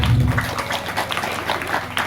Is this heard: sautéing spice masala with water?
no